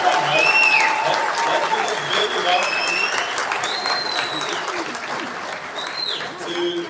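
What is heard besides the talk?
audience applause and cheering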